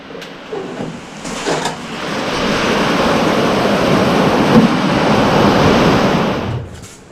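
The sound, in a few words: heavy rain from a sudden cloudburst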